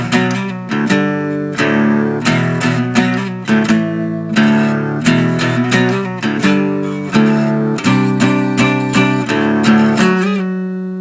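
A guitar strums the chords of a song in a steady rhythmic pattern of ringing chord hits, then slides down to a sustained final chord. It is played alone, loud and close, with no voice.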